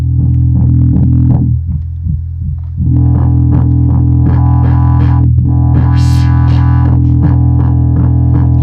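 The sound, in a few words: synthesizer preset with modulation effect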